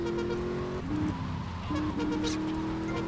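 A car driving in GTA: Vice City, heard as a steady engine drone that shifts pitch as it changes gear, continuous and moderately loud with faint game sounds behind it.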